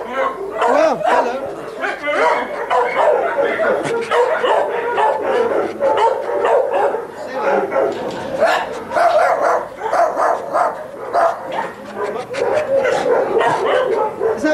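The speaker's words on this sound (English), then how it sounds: "Everybody's having a bark." Several dogs bark and yip repeatedly in an irregular, overlapping chorus close to the microphone, with some whimpering, loud and continuous throughout.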